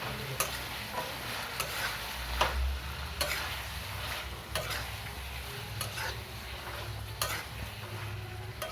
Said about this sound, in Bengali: এবার ঢাকনাটা খুলে আর একটু নাড়াচাড়া করে নেব